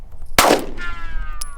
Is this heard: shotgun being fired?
yes